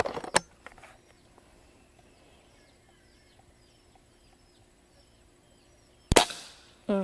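A Umarex Walther Reign .22 caliber bullpup airgun fires two sharp cracks, one near the start and another close to the end, with a quiet outdoor stretch and faint birdsong in between.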